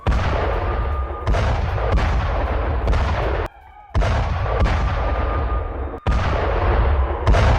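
Howitzers supplied to Ukraine by European countries fire in wartime combat, sustained loud booming blasts in heavy succession with brief dips between salvos, no talk over them.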